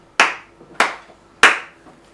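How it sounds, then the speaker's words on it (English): One person gives three slow, separate hand claps, each a sharp close smack that fades quickly, spaced about half a second apart with quiet in between. "I'm giving you the pathetic clap this week."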